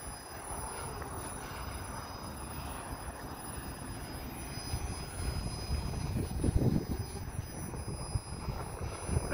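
A steady, low electrical hum from a nearby parked Montreal REM electric trainset at Brossard Station, with broadband rumble and a faint high whine, no voices.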